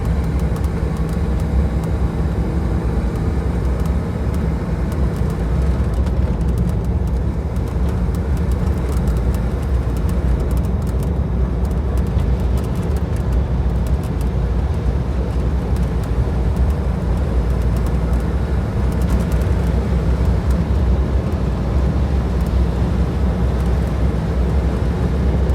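A 1961 Buick fitted with an Edelbrock carburetor, out on a test drive, makes a loud, constant engine and road rumble heard from inside the car, with no talking.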